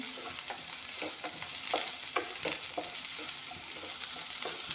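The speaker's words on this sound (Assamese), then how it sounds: "এতিয়া এইখিনি অলপমান ভাজি ল'ম" Vegetable curry with carrot fries and is stirred in a pan, a steady close sizzle broken by repeated scraping strokes of the spoon, with no talk over it.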